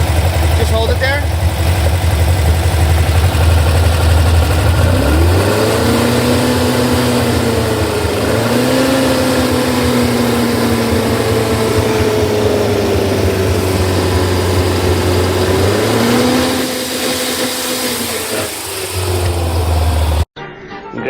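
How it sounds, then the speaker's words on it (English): A Porsche 914 with a 2270 engine and MSD ignition idles loudly, then is revved and held at a higher steady pitch before dropping back and cutting off near the end, with voices under the engine. "rev the motor to 25"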